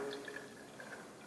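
Water poured from a container back into a glass graduated cylinder, a faint light trickle with small drips and splashes, alone and fairly quiet.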